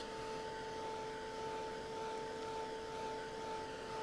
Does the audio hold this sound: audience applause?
no